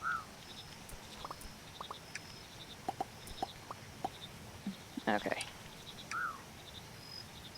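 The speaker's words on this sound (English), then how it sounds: "The birds and the frogs." Birds and frogs in the Mudborne video game: scattered chirps and short croaks over a quiet ambient bed, with a few clustered calls. A voice speaks briefly.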